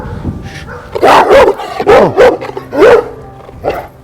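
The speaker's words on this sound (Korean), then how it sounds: "무서워하니까 이렇게 도망가면 이런 식으로 계속 짖는다라는 거예요" A fearful dog barks loudly at close range in a run of four or five sharp barks with short pauses between them, and no talk over it.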